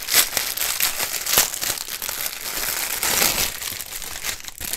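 Resealable plastic bags of diamond painting drills are opened by hand, giving close, continuous crinkling and crackling with sharp rustles and a tearing edge, no talking.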